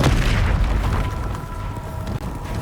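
A Bombarda spell blast in Hogwarts Legacy, a loud booming explosion at the start that rolls into a sustained rumbling roar with a faint ringing tone trailing through the rest.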